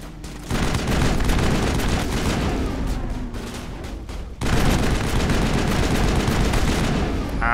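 Sustained automatic gunfire in the Mass Effect video game, dense bursts of shots that pause briefly around the middle and then resume at full intensity, loud and close.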